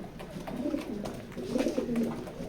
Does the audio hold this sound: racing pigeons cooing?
yes